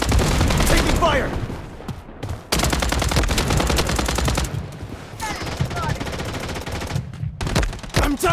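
Gunfire in the shooter game Blood Strike: loud, sustained automatic bursts of rapid shots with brief pauses between volleys, occasional single cracks, and louder stretches near the start and middle.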